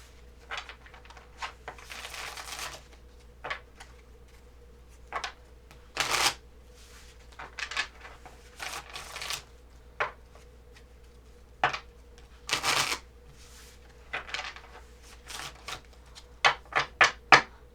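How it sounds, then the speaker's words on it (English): A deck of tarot cards being shuffled in several bursts, riffling and slapping close by, with brief quiet gaps between them. "I'm going to shuffle this deck 3 times"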